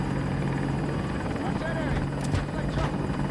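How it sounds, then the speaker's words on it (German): A helicopter in the Battlefield 2042 video game, a loud continuous rotor drone holding steady overhead, with a voice speaking over it. "There's an enemy helicopter overhead."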